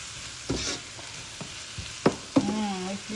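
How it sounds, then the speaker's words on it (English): Garlic and seasoning being stirred in a hot pan, a soft background sizzle punctuated by several close scrapes and knocks of a spoon against the pan; no talking. "Then I'm going to stir it up around."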